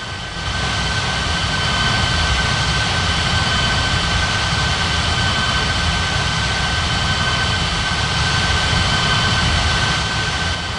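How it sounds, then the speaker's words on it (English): A jet airliner takes off from runway 21 right at Las Palmas airport, a loud, steady engine roar with a constant high whine that holds for the whole stretch. "Blue Panorama 1501 ready for takeoff on 21 right"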